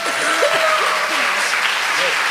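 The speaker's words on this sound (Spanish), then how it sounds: "Pues les podemos dar un fuerte aplauso." Loud, dense applause from a conference audience in Spain, a continuous wash of clapping with faint voices and some laughter mixed in.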